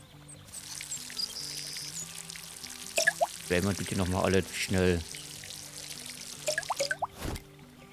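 Water pouring from a watering can onto plants in the Garden Simulator video game, a steady trickle running through the clip beneath a German-speaking voice and light game sounds.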